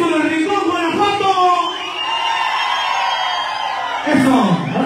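Live concert crowd in Guatemala shouting, whooping and cheering loudly throughout, with a bigger swell of yells near the end.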